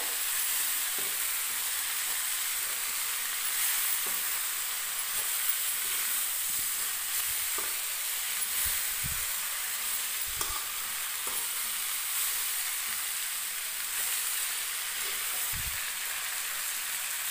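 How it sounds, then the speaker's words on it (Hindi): Jackfruit fries in a pan while spices are stirred through it, giving a steady, even sizzle broken by soft, irregular scrapes and knocks of the spoon. No one speaks. "अब आप इन मसालों को अच्छे से इसमें मिक्स कर दीजिएगा"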